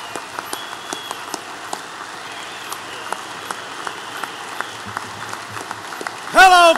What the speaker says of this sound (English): how about a big round of applause and welcome for Glenn Beck?